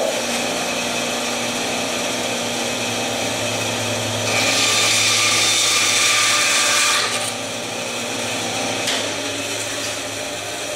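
A bandsaw cuts through wood for a pen blank, its motor hum rising to a loud whining cut for a few seconds, then easing back as the cut finishes and the blade keeps running.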